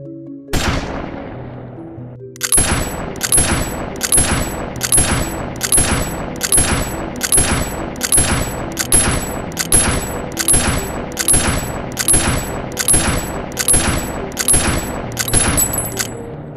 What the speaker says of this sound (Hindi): इस तरह फुली ऑटोमेटिक मोड पर राइफल तब तक फायर करती रहती है जब तक ट्रिगर को रिलीज नहीं कर दिया जाता